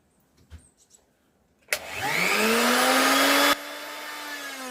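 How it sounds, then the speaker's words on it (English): A woodworking machine with dull cutters starts with a rising motor whine, runs loud and strained, then drops to a lower, steadier drone, heard alone after a few faint clicks. "As you can hear, the machine's like bogging down, making horrible noises."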